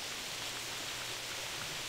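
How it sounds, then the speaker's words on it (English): Steady rain falls in theHunter: Primal, a soft, even wash of hiss with no breaks, faint and unchanging under no speech. "It's rain."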